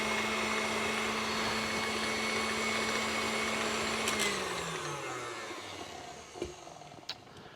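An electric mixer beats Kona Inn-style banana bread batter with a steady, close motor whir that spins down about halfway through, followed by a couple of soft clunks. No one speaks.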